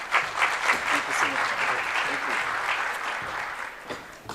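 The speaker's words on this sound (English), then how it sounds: "please give him another round of applause" An audience at a small business summit claps steadily in a dense wash of applause that fades toward the end, with a voice speaking faintly underneath.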